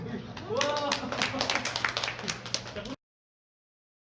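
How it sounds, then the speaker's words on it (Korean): Audience applause breaks out in a room during a fitness and exercise session, dense claps mixed with voices talking over them, then stopping abruptly into silence. "자, 여러분 박수."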